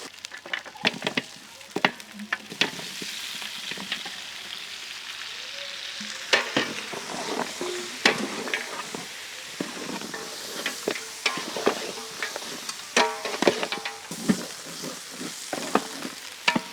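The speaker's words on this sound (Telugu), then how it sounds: "అల్లం వెల్లుల్లి పేస్ట్ నూనెలో చక్కగా వేగి ఆ పచ్చివాసన పోయిన వెంటనే దీంట్లో మనం ముందుగానే కడిగి పెట్టుకున్న పాయా యాడ్ చేద్దాం" Mutton paya (goat legs) hits hot oil with ginger garlic paste and sizzles in a steady hiss, broken by scraping stirs and clinks from the pan, close up and with no talking.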